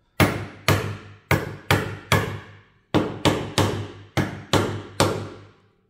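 A heavy, large mallet strikes a chisel eleven times to cut a mortise in hardwood. Each loud, close, sharp blow rings briefly, landing at a steady working rhythm with a short pause midway.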